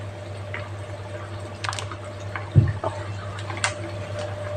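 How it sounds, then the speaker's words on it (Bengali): Mustard oil is drizzled over Bengali sorse ilish, hilsa fish in mustard sauce, in a pan. A brief soft splash and drip sounds midway, alone over a steady low hum. "নামানোর আগে একটু সর্ষের তেল দিয়ে দিচ্ছি উপর দিয়ে।"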